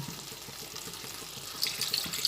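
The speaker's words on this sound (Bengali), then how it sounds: "ডিমগুলো দিয়ে দেওয়ার পরে অল্প পরিমাণে জল দিলাম" Water poured into a pan of egg and potato curry makes a soft, steady trickling splash that grows a little louder and brighter toward the end, with no voices.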